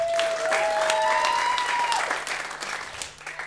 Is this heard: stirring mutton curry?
no